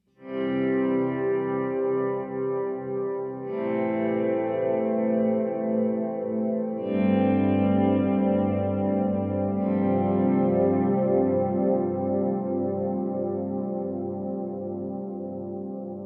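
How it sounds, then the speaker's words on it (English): A sustained electric guitar chord through a Walrus Audio Slö multi-texture reverb pedal turned all the way up, restruck every few seconds, each volume swell blooming and trailing off into long shimmering tails. "if we turn it all the way up just really quickly, you will just hear the reverb trails"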